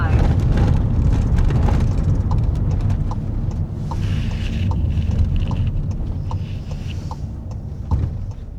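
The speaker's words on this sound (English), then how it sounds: "hopefully you can hear me okay. It's extremely windy." Strong wind buffets the microphone in a constant low rumble on a road in the Scottish Highlands, with scattered faint clicks and knocks underneath it.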